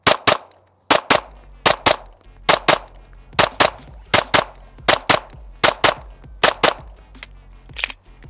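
A Noveske-made Glock handgun fires at a target in a rapid series of about twenty sharp, loud shots, mostly in quick pairs with short pauses between them.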